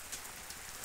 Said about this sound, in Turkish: Çünkü dışarısı acayip yağmurlu.